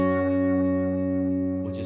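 A sustained chord on an Enya X3 Pro carbon fibre acoustic guitar through a wobbly, gargling modulation effect, ringing steadily and loud for a couple of seconds before a brief noisy scrape at the end.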